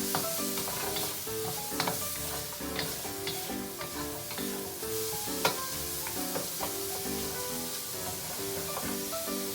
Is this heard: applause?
no